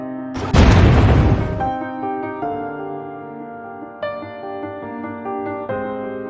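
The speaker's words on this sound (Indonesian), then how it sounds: "pria itu pun memutuskan untuk meledakkan dirinya" A loud explosive burst from a movie scene, a man blowing himself up at a ravine's edge, roars for about a second, then gives way to sustained dramatic music.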